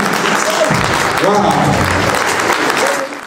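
Loud, dense applause from an audience fills the whole stretch without a break, with voices calling out over it, then eases off right at the end.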